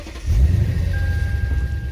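A Lexus IS F engine idles with a steady, low, muted rumble, dual-mode exhaust valves closed, fairly close and even throughout, with no revving.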